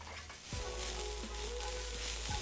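Chopped garlic hits a hot pan and bursts into a sudden sizzle about half a second in, then settles into a steady, close frying hiss.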